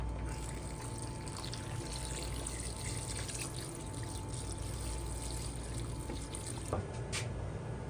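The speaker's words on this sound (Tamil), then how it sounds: "தேவையான அளவு தண்ணி" Water steadily poured into a pot of Tamil-style goat leg soup, a continuous close trickling and splashing that runs unbroken from start to finish, with a brief clink near the end.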